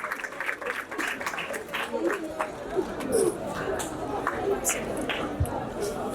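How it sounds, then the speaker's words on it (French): Students in Guinea applaud together during a school road-safety program, a scattered burst of clapping mixed with crowd chatter and voices, fairly close and lively throughout. "Alors, applaudissez pour vous-même, chers élèves."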